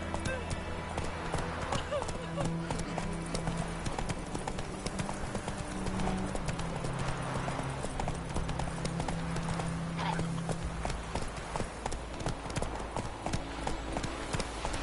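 A horse gallops in The Witcher 3 on PS4, its hooves making a steady, rapid clip-clop that runs loud and continuous throughout, with a brief whinny and someone speaking over the hoofbeats.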